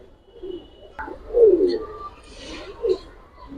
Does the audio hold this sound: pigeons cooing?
yes